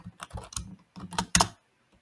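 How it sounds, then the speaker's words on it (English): A root password is typed on a computer keyboard in a quick burst of close keystrokes, two short runs separated by a brief pause, ending with a firmer key press, no voices. "it needs my root password. So I'm going to type that."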